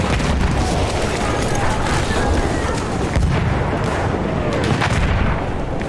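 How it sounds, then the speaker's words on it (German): A grenade going off in the Battlefield 1 game, a heavy blast amid continuous rumbling battle noise and gunfire, loud and dense throughout with no clear pause. "Ich werfe eine Granate."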